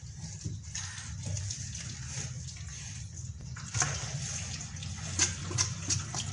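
Water drains steadily from a Dawlance DW 170C2 washing machine, a continuous low gushing and trickling flow with faint splashes, moderately quiet and close, with no talk over it.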